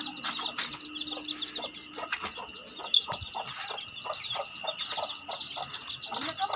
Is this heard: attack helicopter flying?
no